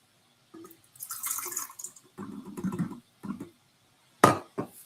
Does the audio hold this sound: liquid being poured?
yes